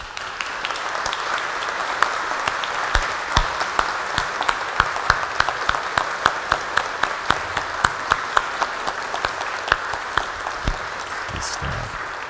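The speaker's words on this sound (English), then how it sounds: "let us welcome those newly initiated with our applause" Congregation applause fills a church after a confirmation service with a bishop visiting, a steady, dense wash of clapping sustained for about twelve seconds with sharper individual claps popping out near the mic.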